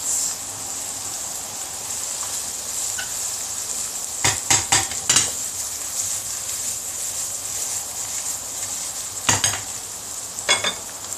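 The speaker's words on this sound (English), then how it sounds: "with that bubbling away, almost frying our vegetables" Vegetables for a Bolognese sizzle and bubble steadily in a pot, with a quiet, constant frying hiss broken by a few brief clusters of utensil knocks against the pot.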